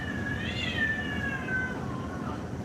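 A cat lets out a long, wavering caterwaul that rises and then slowly slides downward, drawn out over a couple of seconds against a steady low background hum.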